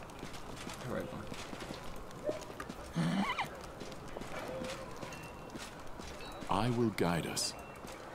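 Horses in the Pathfinder: Wrath of the Righteous video game, with hooves clip-clopping and a couple of loud neighs amid game sounds, while a person talks over them.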